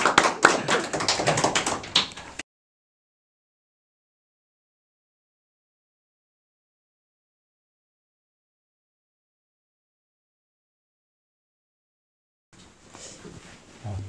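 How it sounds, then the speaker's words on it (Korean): A church congregation applauds during a Sunday service, a short burst of dense, close clapping that cuts off abruptly, followed by a long silence and then a fainter return of clapping near the end. "박수로 맞이하시겠습니다."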